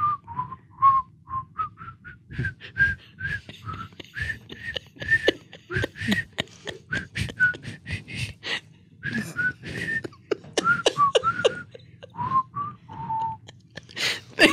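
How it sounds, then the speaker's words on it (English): A person whistles the tune Dixie, a melodic line of short and held notes, close and clear, broken by bursts of talking and laughter. "Can you whistle a little bit of Dixie?"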